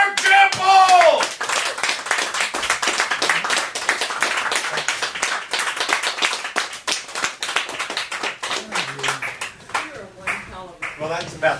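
Audience applause for a poet at his poetry reading, a dense sustained clapping from a room full of people that carries on for the whole stretch, with a voice briefly speaking over the start and the end.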